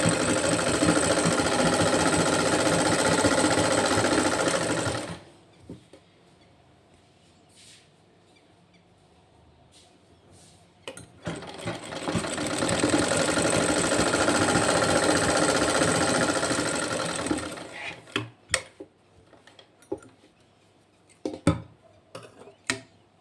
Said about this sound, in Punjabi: ਇਹਦੇ ਇਸ ਤਰ੍ਹਾਂ ਰੱਖ ਕੇ ਇਹਦੇ ਉੱਪਰ ਸਲਾਈ ਲਗਾਵਾਂਗੇ ਇਹ ਇਸ ਤਰ੍ਹਾਂ ਆਪਾਂ ਸਾਰੀ ਸਲਾਈ ਲਗਾ ਲੈਣੀ ਹੈ